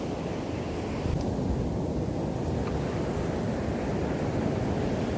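Ocean waves wash steadily onto a beach with continuous broadband surf roar and light wind rumble, close and fairly even, no voices present.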